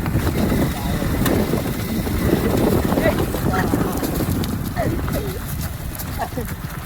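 Horse hooves clip-clop at an easy pace amid wind noise, with people talking in the background.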